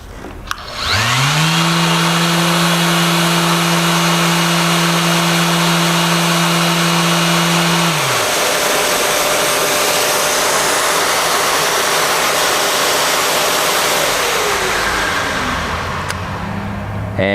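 Power sander spun up to full speed for sanding epoxy, starting with a rising tone that holds steady, shifting pitch partway through, then running as a loud continuous whir before winding down.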